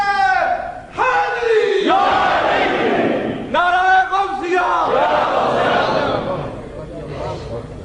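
At a Sunni conference, a leader's voice calls out slogans and a large crowd roars back in loud, repeated bursts of collective chanting, the call-and-response cycle repeating several times.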